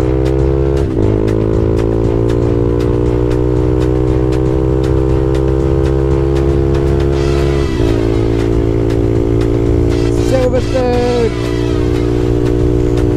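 Honda Grom small motorcycle engine at speed on a motorway, a loud, close, steady high-revving drone with a few gear-shift dips and faint wind rush, no talking.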